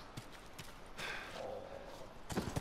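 Horse hooves clip-clop in a short run of uneven steps in The Last of Us, fairly quiet and close, ending in a louder cluster of hoof strikes.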